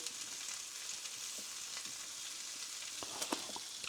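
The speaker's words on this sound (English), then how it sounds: "So I'm just going to toast the buns" Burger buns toast on a hot grill with a steady, faint sizzling hiss and a few small pops and crackles near the end.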